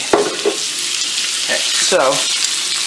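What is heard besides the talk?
chicken sizzling in a hot non-stick pan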